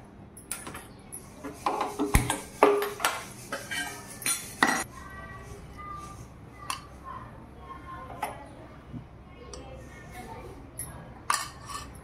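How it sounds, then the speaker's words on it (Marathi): Vermicelli roasting in a little oil in a kadai for upma, with a spoon scraping and clinking against the metal pan in irregular close taps and knocks over a low sizzle, with a voice speaking at moments. "आता आधी आपण या शेवया कढईमध्ये थोडं तेल टाकून भाजून घेऊया."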